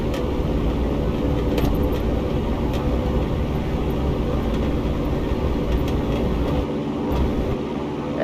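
A light airplane's engine at full takeoff power roars as a loud, steady broadband drone that holds throughout the takeoff roll, with faint clicks and rattles over it.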